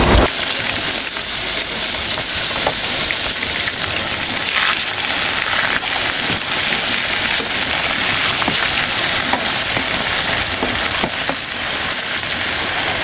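Chicken pieces frying in mustard oil, a constant close crackle and spatter with scattered sharp pops, loud and without talk.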